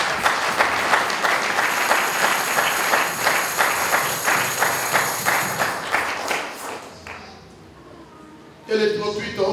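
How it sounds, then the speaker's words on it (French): A church congregation claps loudly in rhythmic unison, applause building and pulsing steadily before fading out, then a voice comes in at the end. "Acclamons très fort le Seigneur"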